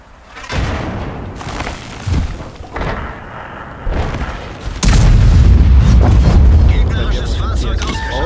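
Cannon fire from a Rheinmetall-Borsig Waffenträger tank destroyer in a video game: several deep booms, the heaviest a loud near blast followed by a rumbling roar, with someone commenting over the action.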